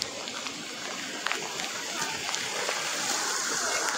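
A small stream on a monsoon jungle trek rushes and splashes steadily and close by, its noise filling the scene.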